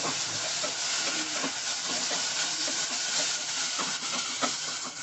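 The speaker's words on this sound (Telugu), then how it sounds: "అల్లం వెల్లుల్లి పేస్ట్ రెండు టేబుల్ స్పూన్లు యాడ్ చేసుకోవాలి ఇది పచ్చి వాసన పోయే వరకు చక్కగా ఫ్రై చేసుకోండి" Ginger garlic paste fries in a pan for gongura mutton curry, a steady sizzling hiss that continues evenly throughout, with faint clinks and no talking.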